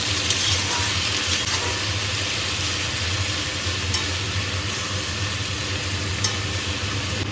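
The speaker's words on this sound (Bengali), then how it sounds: "এখন সব নেড়ে চেড়ে ভালোভাবে মিশিয়ে দিয়ে আলুগুলো ভেজে নেব।" Potatoes fry for a kachki fish dish, a steady close sizzle in a pan with soft scraping stirring strokes throughout and no voices.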